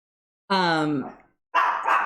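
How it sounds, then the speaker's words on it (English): Nearby, a dog gives a drawn-out whining bark, then after a short pause a couple of harsher, rougher barks. "Oh my goodness, dogs. All right, I'm gonna wait for just a moment. Hopefully they'll stop barking."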